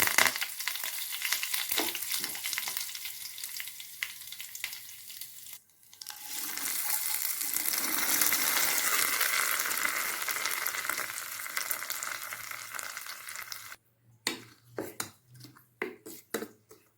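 Mustard seeds, urad dal and curry leaves crackle and sizzle in hot oil for a coconut chutney tempering, a dense spluttering hiss that surges midway, then breaks into sparse pops and clinks near the end.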